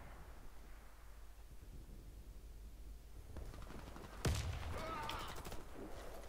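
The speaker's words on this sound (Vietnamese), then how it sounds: "Mẹ nó bắn shotgun kìa." A single sharp shotgun blast in the PS4 shooter Warface during a team deathmatch, loud and close, ringing out over quiet windy ambience and trailing off in a noisy tail.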